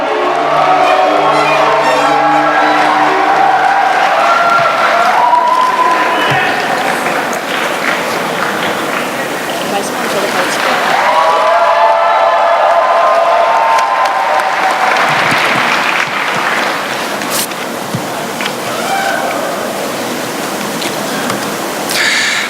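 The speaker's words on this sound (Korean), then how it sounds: "여러분 뜨거운 박수로 맞이해 주시기 바랍니다." A large crowd at a Korean party leadership rally in South Jeolla applauds and cheers loudly and continuously, a dense wash of clapping with rising shouts, as a candidate is welcomed to the stage.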